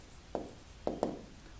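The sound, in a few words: writing with a pen on paper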